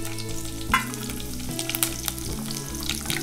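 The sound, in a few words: chopped green chillies sizzling as they fry in oil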